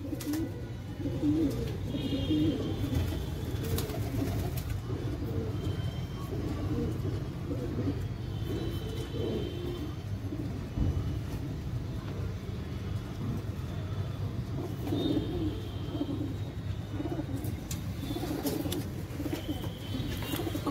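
Soft coos of red racing pigeons repeat in a low murmur over a steady background of ambient noise, with occasional faint chirps higher up.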